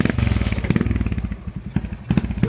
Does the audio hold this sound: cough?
no